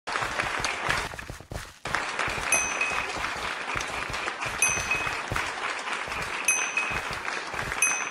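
An applause sound effect with dense, sustained clapping that briefly dips, then continues steadily, with faint tonal chimes recurring over it.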